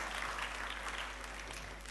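A church congregation claps along during a sermon, a brief, fairly faint burst of hand clapping with a low steady hum underneath.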